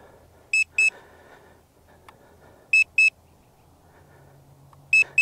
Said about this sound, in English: I'm sorry about that beep. I wish there was a way to shut that off.